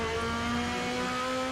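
Ferrari 458 GT2 race car engines at Imola in a racing video game: a sustained, steady high engine drone with a strong tonal whine, continuous and fairly loud, with no voices.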